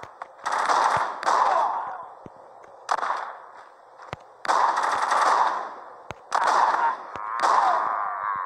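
Machine gun fire in the zombie video game The Walking Zombie 2, loud sustained bursts of rapid shots about a second long, separated by short pauses and single sharp cracks.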